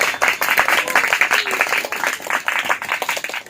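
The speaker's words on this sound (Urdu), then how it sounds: "میں چاہوں گا کہ خدا کے روح کے لیے پاک روح کے لیے ہم زوردار تالیاں بجا کر خدا کے کلام" A church congregation claps loudly and continuously during an Urdu/Hindi worship service, a dense, rapid patter of many hands sustained throughout with no pauses.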